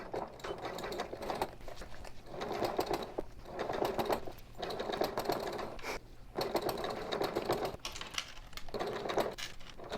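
A sewing machine stitches slowly along a seam near an eighth-inch allowance through a small bag, running in steady bursts of mechanical whirring separated by brief pauses, close and moderately loud.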